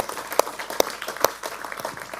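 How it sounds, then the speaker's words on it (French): Audience applause at an awards ceremony for a workplace safety competition, a short burst of scattered claps with a few sharp, prominent hand strikes standing out over softer clapping. "On vous applaudit très fort."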